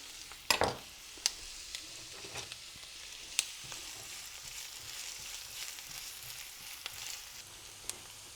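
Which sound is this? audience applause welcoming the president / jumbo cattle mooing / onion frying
onion frying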